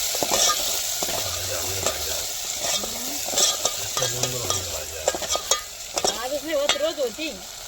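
Spice masala sizzles and fries in hot oil while a spoon stirs and scrapes the pan, with steady crackling broken by intermittent clinks and scrapes at close range.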